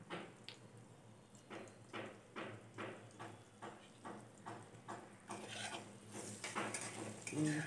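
A spoon stirring spiced khichuri in a pot, giving a quiet, steady run of about a dozen soft scraping strokes in a regular rhythm, then a slightly louder, busier clatter of the pot near the end.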